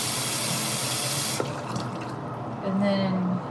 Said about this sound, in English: Let's do some more running water through the hairbrush.